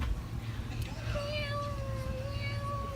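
A recorded cat meow played back in a classroom, a faint drawn-out call over a steady low hum and background murmur.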